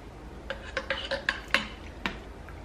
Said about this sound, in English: Now I'm just swishing my little tablespoon down around in the